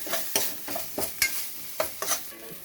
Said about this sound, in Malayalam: പച്ചപ്പ് മണം പോകുന്നിടം വരെ നമുക്ക് ഇളക്കി കൊടുക്കാം